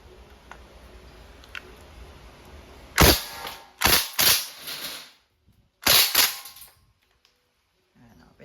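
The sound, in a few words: KWC blowback airgun submachine gun firing full auto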